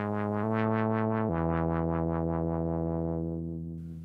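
A bright, buzzy Roland SH-101 analog monophonic synth tone pulses in a fast steady rhythm of repeated plucky notes, stepping down in pitch once before fading slightly.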